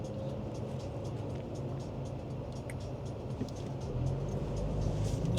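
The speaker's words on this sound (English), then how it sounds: "I'm just on the roundabout here, and he's got so many cars." Road traffic on a roundabout is a continuous low rumble of engines and tyres heard from inside a moving vehicle, with faint ticking above, growing a little heavier near the end; nobody speaks.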